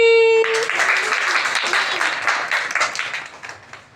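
A classroom of children claps together after a tone fades, a dense burst of overlapping hand claps that is loudest at first and thins gradually, with some voices mixed in.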